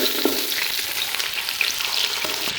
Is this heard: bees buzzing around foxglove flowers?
no